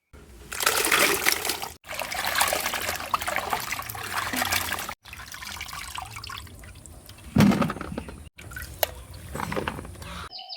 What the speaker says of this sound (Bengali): কাঁঠাল কইটে নেওয়া হয়ে গেছে, যাই ধুই নিয়ে আসে